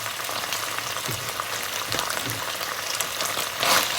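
Red fish balls with crab-flavoured seasoning powder and a little sugar sizzle and crackle in a pan as they are stir-fried, a steady hiss with occasional scraping stirs and a louder burst near the end.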